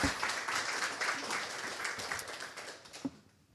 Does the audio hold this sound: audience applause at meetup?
yes